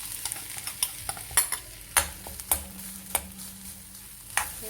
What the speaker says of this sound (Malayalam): എന്നിട്ട് നല്ല ഗോൾഡൻ നിറം ആവുന്ന വരെ നമ്മളിത് ഫ്രൈ ചെയ്തെടുക്കണം